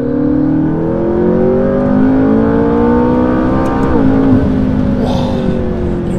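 A McLaren 570 engine rising in steady acceleration with a climbing harmonic whine, then the throttle snaps shut and the note drops abruptly. Loud and close, no voices.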